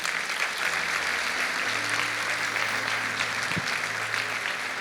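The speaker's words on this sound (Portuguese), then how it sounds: "Você pode dar um aplauso a Ele?" A Pentecost church congregation claps in loud, steady applause that fills the whole stretch, dense and even, with a low sustained tone underneath and no clear speech.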